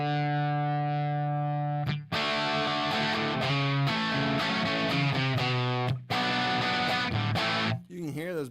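Distorted Les Paul Jr electric guitar plays a tune, thick overdriven chords and riffs strummed in phrases with brief gaps, loud and close, with a short squealing burst near the end.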